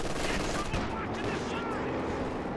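Machine gun fire in a real-time strategy game rattles in a dense, continuous stream of rapid shots, mixed with other battle noise and a commentator's voice.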